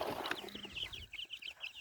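Young chicks and hens of the Brahma chicken breed cluck in a close run of short, repeated high calls over steady low background noise.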